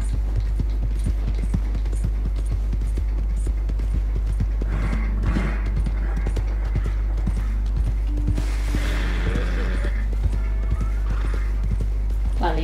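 Horse hooves clip-clop steadily through Red Dead Redemption 2's game world, a continuous run of close hoofbeats with an occasional whinny and creaking tack over a low constant rumble.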